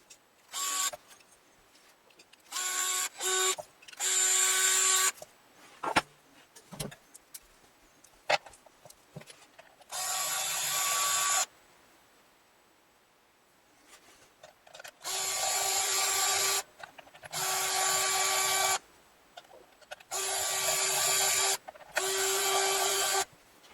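Tools at work swapping the tuning machines on a Jazz bass neck by hand, fitting solid brass tuners: several bursts of buzzy, whirring power-tool driving separated by quieter handling clicks and gaps, close and fairly loud, no talk.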